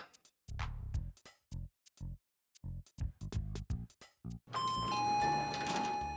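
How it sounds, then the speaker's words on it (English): Doorbell chime in the video game Omori, a burst of short tonal hits followed by a sustained ringing tone, loud and alone with no voices. "Ding dong."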